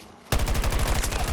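Rapid automatic gunfire in the video game Battlefield 2042 bursts in abruptly after a brief quiet moment, a loud close stream of evenly spaced shots continuing to the end.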